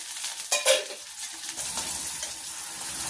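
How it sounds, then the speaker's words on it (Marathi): Chopped onion and tomato hit hot oil in a pan, a brief clatter followed by a steady close sizzle and frying hiss that carries on alone with no voices. "तेल तापलंय तर कांदा टाकते, टमाटर टाकून घेते"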